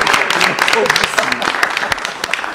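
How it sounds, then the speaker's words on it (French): A TV studio audience claps in response to a host's invitation, fairly loud dense applause with sharp individual claps, a voice briefly audible amid the clapping. "Applaudissez si vous êtes d'accord."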